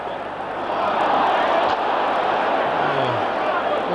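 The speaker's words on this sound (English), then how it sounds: "A little bit unsettled in the crowd." Restless football stadium crowd at a 1989 European Cup semi-final between AC Milan and Real Madrid, a steady dense murmur of thousands of spectators with a commentator talking over it.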